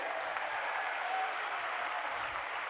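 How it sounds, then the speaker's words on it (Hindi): A seated audience applauds with their hands raised at a spiritual gathering in India, producing dense, steady clapping that holds at an even level from start to finish, with no voices above it. "हाथ ऊपर करके ताली बजाइए।"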